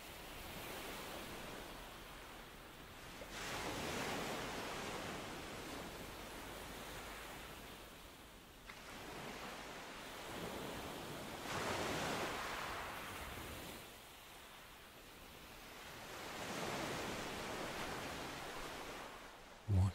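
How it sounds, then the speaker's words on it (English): Gentle ocean waves roll in and wash out in slow, soft surges about every four seconds, a calm, steady hiss of surf with no voices. "Let yourself become one with the gentle curl of the waves"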